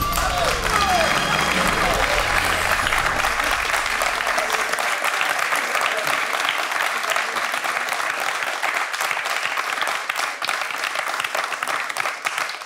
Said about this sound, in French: Ce qui était très beau aussi, c'est la façon dont Arthur et Lalou l'ont applaudi.